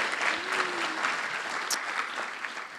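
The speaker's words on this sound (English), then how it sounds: "Round of applause." Sustained audience applause at a RubyConf AU 2023 conference talk, steady dense clapping from a crowd filling the whole stretch without break.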